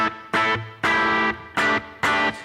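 Overdriven guitar tone from an amp profile turned up into breakup, played as five loud, gritty chord stabs with short gaps between them, each ringing fully before cutting off.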